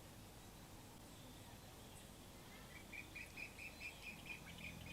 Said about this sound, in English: You can hear some birds.